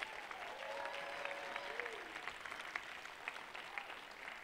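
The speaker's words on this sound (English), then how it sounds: "I'd like to give a round of applause. Let's give a shout out to all of our performers." Audience applauding performers at a Lincoln Center competition show, a steady sustained clapping from a large crowd with scattered whistles, heard alone throughout.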